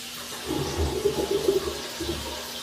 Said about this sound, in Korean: 물도 역시 잘 나오고 있고요